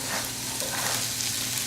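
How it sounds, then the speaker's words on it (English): Chicken and sugar snap peas stir-fry on high heat, giving a loud, dense, unbroken sizzle in one short burst, with no voices. "So we're going to stir fry that. Nice high heat."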